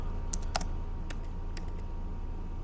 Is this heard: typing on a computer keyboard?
yes